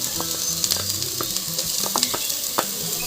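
Crushed kanthari chili, onion and garlic sauté in a hot pan, a steady close sizzle broken by short scraping stirs and tapping of the spoon against the pan, no voices.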